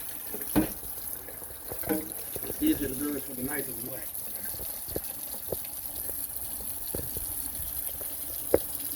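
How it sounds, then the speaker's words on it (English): Tap water runs steadily at a kitchen sink while sushi is being prepared, a soft continuous wash beneath someone talking close by, with a few sharp knocks and clatters. "Run some water."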